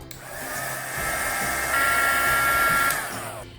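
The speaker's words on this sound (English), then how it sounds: "I'm gonna go in and heat set these now." A heat tool heat-sets freshly coated mixed media layers on an art card, giving a loud, steady blowing whir that holds for the whole stretch with no talk.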